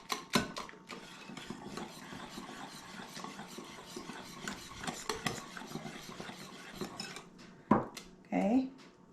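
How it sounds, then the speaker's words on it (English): Banana bread batter being beaten in a bowl, with utensil scraping and clinking against the dish in a steady busy rhythm, close up, followed by a couple of sharper knocks near the end. "In here, I'm gonna add this mixture, but I'm gonna beat it up a little bit more."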